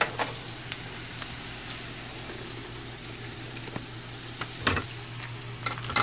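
Cajun-style smoked sausage frying with mushrooms and onions in a pan gives a steady, low sizzle, with a few sharp clicks and scrapes from stirring.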